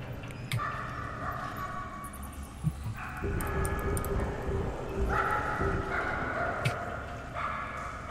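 A dog in the video game Somerville barks in short bursts, several yips and bow-wows spread over a steady background hum, moderately loud.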